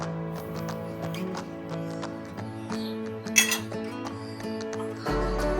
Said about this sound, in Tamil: சர்க்கரை போட்டு நல்லா கிளறுங்க